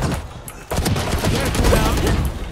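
Rapid gunfire in a tactical shooter video game, a dense volley of shots over roughly two seconds, with players talking over it.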